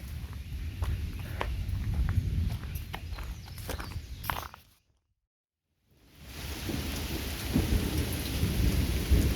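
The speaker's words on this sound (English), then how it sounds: "It's raining." Light rain falls outdoors by a home driveway, a steady close hiss with low rumbles of thunder underneath, cutting out briefly to silence before the rain and rumble return.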